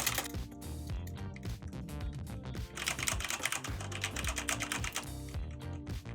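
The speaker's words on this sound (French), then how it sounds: "là je suis en train de taper sur un clavier mécanique, extrêmement bruyant" Rapid, loud clacking of mechanical keyboard keys, a continuous flurry of keystrokes close by with no voices.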